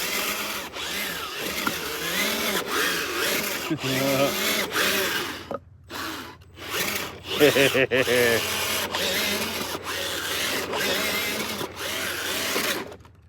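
A modded RC Sherp model vehicle fitted with a Dumbo RC radio whines and grinds steadily as it drives, its small motor and gearbox rising and falling with brief pauses, while someone talks over it.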